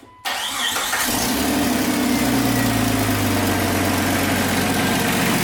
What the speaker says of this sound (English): start the vehicle and make sure she sounds nice. Start her up.